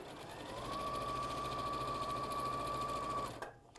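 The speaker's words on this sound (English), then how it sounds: "I'm going to sew those 2 pieces right sides together down that seam there" A sewing machine runs steadily for about three seconds, stitching two pieces of fabric right sides together along a seam during dog appliqué work. It is close and even, with no talk over it, and it stops abruptly at the end.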